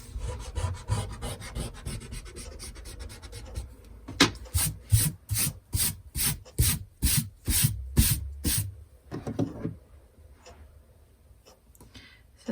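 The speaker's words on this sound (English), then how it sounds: "go ahead and grab an eraser, and we need to erase the extra lines" An eraser scrubs pencil lines off paper during a geometry drawing lesson: quick, dense rubbing, then a run of about ten louder, rhythmic strokes, tapering to faint scratches near the end, close up and without speech.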